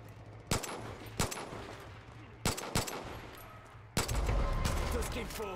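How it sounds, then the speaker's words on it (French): Scattered gunfire in the Far Cry 5 video game, several sharp separate shots a second or so apart, then a heavier burst that continues over a low background drone. "Ça tire."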